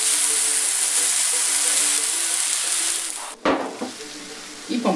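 Grouper fillets dropped into a pan of wilted eggplant, a loud steady close-up sizzle of frying oil that bursts briefly louder as the fish goes in, with some stirring noise.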